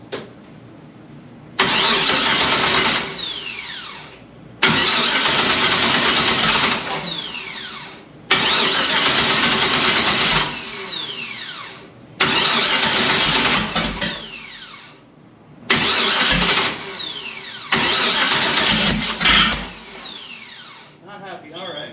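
An engine fitted with a Quick Fuel 850 blow-thru carburetor cranks over in six loud starter bursts of two to three seconds each. Short quiet gaps separate the bursts, and the engine never catches.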